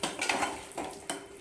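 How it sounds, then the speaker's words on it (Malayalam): A spoon stirs fried chicken biryani in a metal pot, scraping and clinking against the sides in a few distinct strokes with a faint sizzle beneath, close and fairly quiet, no voices. "യോജിപ്പിച്ചെടുക്കാം."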